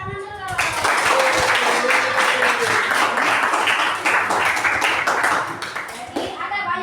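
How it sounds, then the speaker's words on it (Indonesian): A classroom full of people breaks into applause, dense clapping swelling for several seconds with some voices mixed in, then tapering off. "tepuk tangan dulu"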